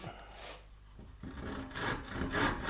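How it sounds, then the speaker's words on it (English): A hand saw cuts the cheeks of a wooden tenon for a mortise and tenon joint, with rasping, rubbing strokes starting after a brief pause and growing louder and steadier toward the end, close to the microphone. "To saw it, as I said,"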